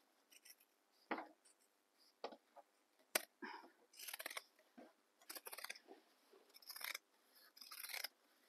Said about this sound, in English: now we're going to trim the seam allowance